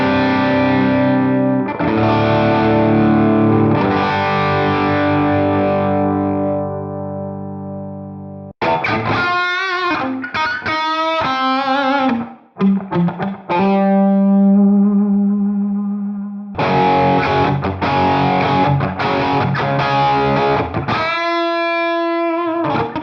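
Westcreek Blue Mirage budget electric guitar played on its bridge humbucker with distortion, loud and alone: a long ringing chord first, then choppy riffs and stabbed chords with short gaps.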